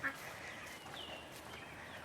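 Ducks on a farm quacking and honking in a low, steady chatter, faint and somewhat distant under outdoor ambience.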